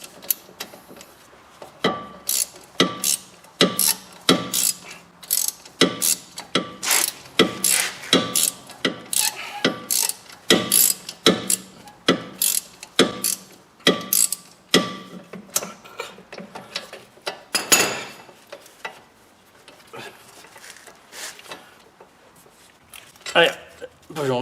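Ratchet wrench loosening bolts on a Chevrolet Cruze front wheel bearing assembly, a long run of rapid, close clicking bursts with brief pauses, stopping near the end before a last short burst.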